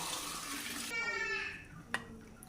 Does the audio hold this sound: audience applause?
no